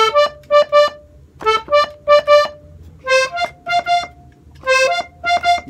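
Accordion plays a short melodic phrase from a song, a series of clear reedy notes in small groups, repeated and rising slightly toward the end, with no voice over it.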